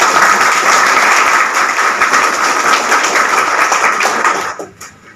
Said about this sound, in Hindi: हमारी ओर से आप लोगों के लिए एक शानदार ताली होनी चाहिए